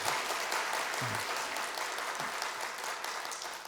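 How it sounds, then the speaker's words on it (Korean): A church congregation at a Sunday service claps in encouragement for a departing volunteer, sustained even applause throughout with a couple of brief low voices or thumps beneath it. "수고하셨다고 한번 박수로 격려해 주시기 바랍니다"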